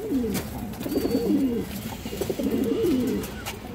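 Domestic pigeons at a fancier's loft cooing close by, two rolling, throaty coo phrases in succession over soft background noise, with no speech.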